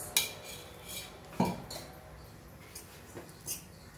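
Dried dates roasting in a little ghee in a metal pan, heard as a few sharp spatula clinks and scrapes spaced across a quiet background.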